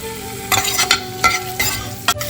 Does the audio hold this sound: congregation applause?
no